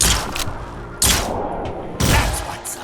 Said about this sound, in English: The ancient pistol then still gives Borman enough range to land 2 twitch shot criticals from above